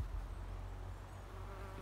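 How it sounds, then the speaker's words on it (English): Bees buzzing as they pollinate plants in a home garden where bottle gourds and tomatoes are being planted, a steady low hum close by, with no talking. "Bees are still busy pollinating the plants."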